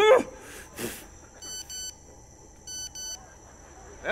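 Two short bursts of rapid electronic beeps from a mobile phone announce an incoming text message, each burst a quick pulsed pattern, heard close and clear in an otherwise quiet room with a few faint voice sounds around.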